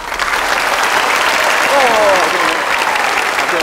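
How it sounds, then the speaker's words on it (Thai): A studio audience claps for both teams at the end of a televised Thai cooking battle, a dense, even roar of many hands with a brief voice cutting through midway. "เสียงปรบมือให้กับทั้งสองทีมครับ"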